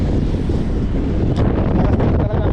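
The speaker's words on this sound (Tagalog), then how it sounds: "Lakas din talaga ang hangin." Strong wind buffets the microphone with a steady, roaring rumble, loud and continuous throughout, with faint water sounds beneath.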